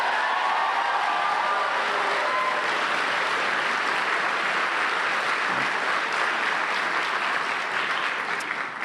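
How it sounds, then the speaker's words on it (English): Sustained applause from a large audience, steady and dense clapping filling the whole stretch without pause. "So let's give a round of applause to those speakers right now."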